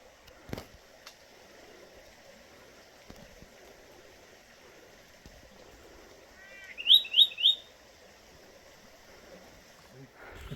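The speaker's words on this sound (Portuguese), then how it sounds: "Galo de Campinas." A red-cowled cardinal (galo de campinas) at a Cerrado campsite gives a short burst of three or four quick chirping notes near the middle, over faint steady stream-like background noise.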